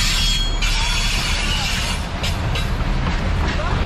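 A freight train approaching slowly in a train video game during the harvest season, a steady rumbling roll with clanking metallic wagon sounds, loud and continuous.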